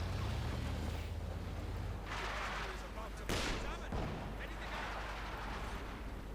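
Mortar and artillery fire in Company of Heroes 2, a steady rumble of battle with a sharp blast near the middle and another shortly after, loud and continuous with no talk.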